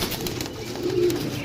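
A young pigeon coos softly in a loft or cage among a group of birds. One low, brief coo rises out of a steady background hiss, close but faint, with no speech.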